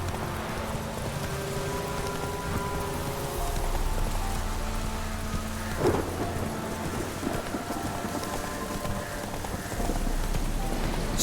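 A horse gallops in The Witcher 3: Wild Hunt, with steady rhythmic hoofbeats running under continuous rain-like ambience and droning background music, and a brief louder thud partway through.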